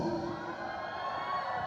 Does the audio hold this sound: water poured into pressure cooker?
no